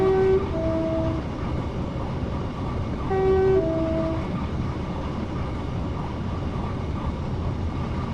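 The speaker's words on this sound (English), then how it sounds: "Sound the horn." A train horn sounds twice on a Portsmouth to Waterloo line service, blown by the driver at a whistle board on a downhill gradient: two steady two-tone blasts, loud and close, over the continuous rumble of the moving train.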